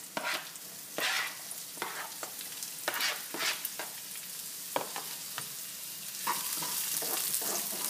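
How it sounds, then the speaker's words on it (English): Red onions and chopped mushrooms fry in a hot pan, a steady crackling sizzle broken by repeated stirring scrapes, close and fairly quiet with no talking. "I'm going to go ahead and add the red onions."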